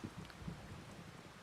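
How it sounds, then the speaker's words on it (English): Rainstorm with distant thunder in the Farming Simulator 25 video game, a faint, steady wash of rain and low rumble heard alone, with no talk. "You can probably hear the thunder in the background there."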